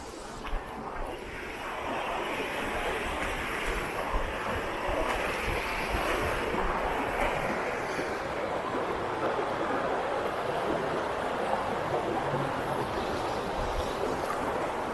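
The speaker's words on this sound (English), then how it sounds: "Let me show you the river." A rain-swollen river's rushing water fills the scene with a broad, continuous roar, steady and fairly close, with some wind buffeting the microphone.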